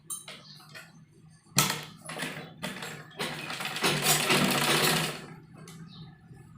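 A sewing machine stitching a bell sleeve onto an umbrella frock, running in short bursts then one longer steady whirring run, close and fairly loud, with no talking.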